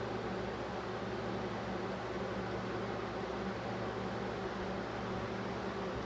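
An automatic bobbin winder on a sewing machine spins a bobbin with a steady, even whir that holds constant throughout at moderate volume, with no talking.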